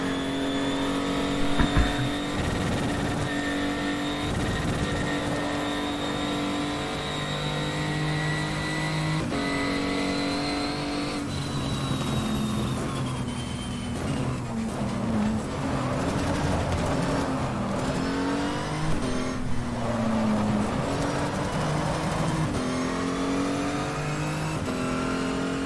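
Race car engine in the GTR2 racing game, loud continuous revving that climbs and drops through gear changes with brief tire squeal, sustained throughout.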